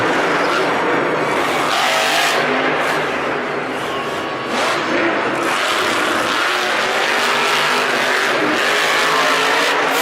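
A monster truck engine at Monster Jam in Arlington roars at full throttle for a big jump, loud and sustained with rising and falling revs over constant crowd and arena noise.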